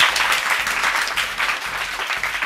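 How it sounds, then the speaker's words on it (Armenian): A studio audience claps on a TV game show, steady dense applause with rhythmic low thumps underneath, fairly close and loud, lasting the whole stretch without voices over it. "ծափարություններ"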